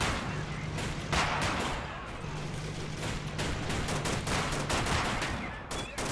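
Distant, dense gunfire rattles steadily through a battlefield in Men of War: Assault Squad, with scattered shots and booms over a constant noisy din and no clear voices.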